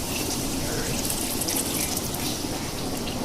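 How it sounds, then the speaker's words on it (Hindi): A glass of hot water pours into a pot of Bihari gosht masala, a steady loud splashing gush that runs continuously and close without pause, no talking. "ये 1 गिलास जितना पानी डाल दिया इसमें।"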